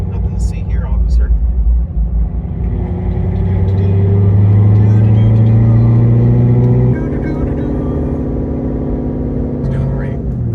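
A stock Chevrolet Corvette C7 Z06 V8 rumbles steadily at low revs around 1500 RPM while cruising, loud and close from inside the car, with a slight shift in tone partway through.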